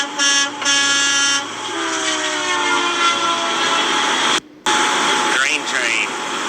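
Locomotive horn blasts, including an SD40-2 style horn, sounding in several sustained chords with brief breaks and a pitch-bending tone near the end, loud and close.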